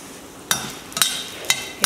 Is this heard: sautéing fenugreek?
yes